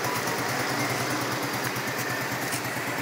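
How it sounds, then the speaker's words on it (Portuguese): A Shineray Jet 50X 50cc moped runs in a motorcycle workshop, its small engine holding a steady, close, buzzing idle throughout with no talk over it. "vai pegar a motinha"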